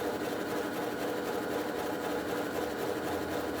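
A sewing machine stitches a scalloped blanket stitch, giving off a steady, continuous mechanical whir that holds at an even level throughout, with no talking.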